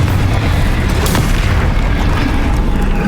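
A Confringo blasting spell from the Hogwarts Legacy video game goes off as one loud, deep, rumbling explosion that fills the whole moment with sustained booming noise.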